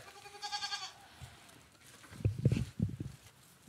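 A goat gives a short, wavering bleat at close range, followed by soft shuffling and low thumping sounds.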